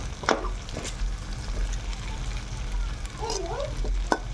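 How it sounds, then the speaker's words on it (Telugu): Onions frying in a pan with a steady sizzle, broken by occasional sharp clatters as the pan is stirred, while someone talks over the cooking. "చూడండి, ఉల్లగడ్డలు ఫ్రై చేసుకుంటున్నాను."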